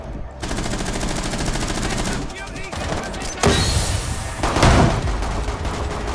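Sustained machine-gun bursts and heavy shots in Rainbow Six Siege, on the Park map in Team Deathmatch Secure, firing loudly and almost without pause, with louder blasts near the end and some voices mixed in.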